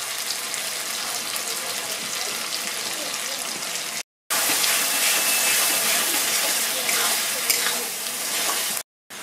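Yogurt and chili paste sizzling loudly in a pan of softened onion and tomato, a dense, steady hiss and crackle close by, cut by two short silences.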